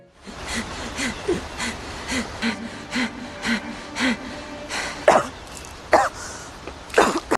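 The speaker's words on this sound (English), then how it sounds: "coughed and gasped for air, alive" A run of rhythmic, laboured breaths gives way to several sharp coughs and gasps near the end, close and uneven.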